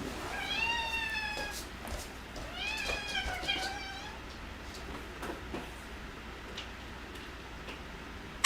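A house cat meows twice in long, rising calls while being given a snack indoors, with faint ticking and soft clicks in the quiet room afterward.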